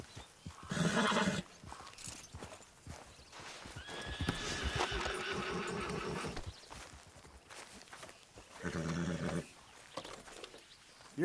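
A horse in Red Dead Redemption 2 whinnies loudly twice, near and clear, with hooves clip-clopping and shuffling between the calls.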